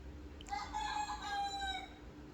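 A single rooster crows once in the early morning, fairly faint and at a middle distance, against quiet background noise.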